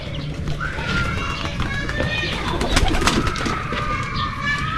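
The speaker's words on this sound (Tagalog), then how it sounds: "Yan ang mga kalapati natin. Kalapati." Pigeons coo and flutter nearby amid steady outdoor background noise, with scattered bird calls throughout.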